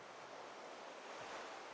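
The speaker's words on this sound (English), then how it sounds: "Your breathing joins with the lapping waves, in and out, in and out," Sea waves lap gently at the shore, a soft, continuous wash of surf with faint wind, heard quietly from a distance without any speech.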